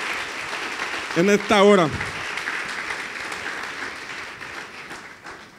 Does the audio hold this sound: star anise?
no